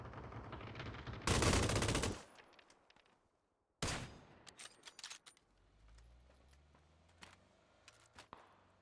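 M249 SAW machine gun fire in a PUBG battle royale esports match: a loud, dense sustained burst, then a sharp second volley after a brief gap, trailing into scattered individual shots and distant pops.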